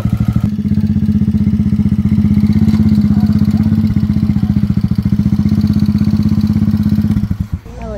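A 223cc RPS Condor motorcycle engine thrums loud and close while riding, a steady rapid low-pitched pulsing that holds constant for about seven seconds before dropping off abruptly near the end.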